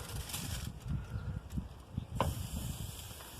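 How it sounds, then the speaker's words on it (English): Continuous crackling sizzle and hiss from ribeye steak on a hot charcoal grill, close and steady with small popping bursts throughout. "Hear that sizzle? That's what you want."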